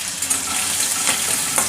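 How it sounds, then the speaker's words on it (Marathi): Mustard seeds, cumin and crushed garlic fry in hot oil, giving a steady close-up sizzle with soft stirring and crackle throughout and no voices. "लसूण चांगला लाल होईपर्यंत भाजून घ्यायचा।"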